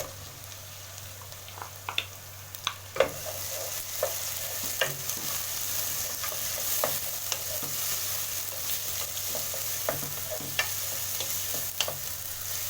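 Tomatoes hit garlic frying in a pan, raising a steady sizzle across the clip, with scattered clicks and scrapes of stirring in the pan.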